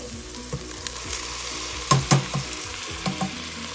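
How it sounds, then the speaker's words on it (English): Browned beef sizzles in a pan as a can of petite diced tomatoes goes in, a steady frying hiss broken by several louder spitting pops and stirring scrapes close by. "Now that the beef is brown, I'm going to add a can of petite sized tomatoes."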